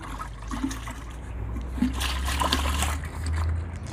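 Water being stirred to dissolve homemade organic compost ingredients, a cup of starter with a bottle of water, making a steady close sloshing and trickling wash with small splashes throughout.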